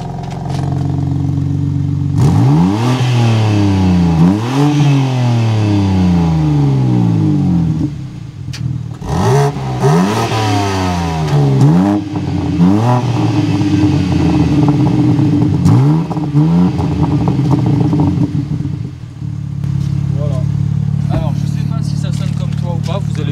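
BMW M3 engine, warmed up, revving repeatedly in loud rising and falling sweeps that return to a steady idle between bursts, with people talking in the background.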